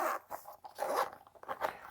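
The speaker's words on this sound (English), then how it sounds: "Zipper" Zipper on a rubbery, nylon-canvas carry case from a GoPro Hero 8 bundle being pulled open in several quick, close, raspy strokes.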